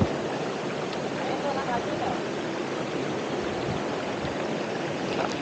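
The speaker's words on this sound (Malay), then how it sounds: "Kepala air, geng. Tiba-tiba datang besar." Rushing river water as a flash flood surges in during a fishing outing, a loud, continuous churning roar close by that holds steady throughout.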